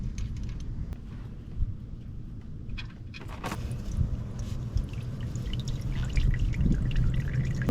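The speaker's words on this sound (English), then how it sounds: "Okay, so most of the oil has drained out, so I'm gonna put the drain plug back in." Engine oil drains from the drain hole of a 2010 Ford Ranger with a 2.3L engine, heard up close as a steady trickle with scattered drips and a few light clinks, no talking.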